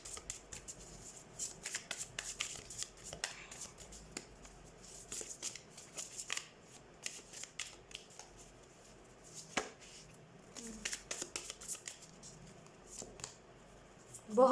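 Tarot cards being shuffled for an extra draw during a card reading, soft papery riffles and taps in irregular bursts, close and quiet, with a room hush between.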